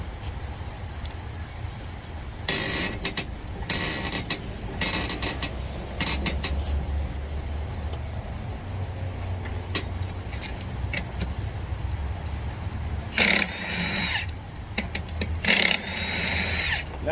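On a Ford Transit 2500 passenger van, an impact wrench loosens the lug nuts in several short bursts of rattling hammering, separated by pauses filled with low engine or traffic rumble and small clanks.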